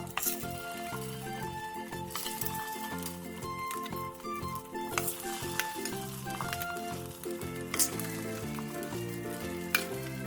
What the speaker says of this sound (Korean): 팬에 기름을 두르고 두부를 올려주세요.